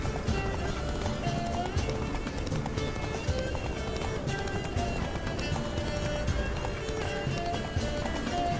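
A horse gallops in The Witcher 3 with rapid, rhythmic hoofbeats under continuous busy background sound, fairly close and constant throughout.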